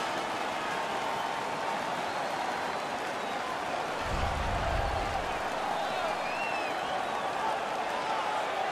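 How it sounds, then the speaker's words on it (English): An arena crowd in the NHL 16 hockey game roars in a steady, washy cheer after a fight, swelling briefly in the middle, with commentary voices talking over it. "Their man's won the fight. The crowd is ecstatic."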